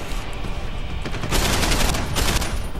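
Gunfire from a crouching shooter in the video game Deus Ex, a loud burst of rapid shots that swells in the second half over a dense noisy background, with no talking.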